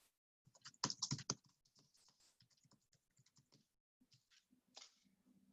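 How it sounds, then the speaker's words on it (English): Quick, irregular keystrokes tapping on a computer keyboard, close by and fairly quiet, arriving in a dense burst followed by scattered lighter taps. "So I'm going to go ahead and type in a little thing."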